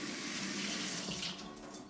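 Water runs steadily from a kitchen tap as a potato is rinsed, a close, constant hiss and splash lasting two seconds.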